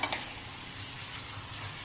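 Paneer with peas fries in a pan, a steady close hiss of oil with a couple of light clicks at the start and no talking.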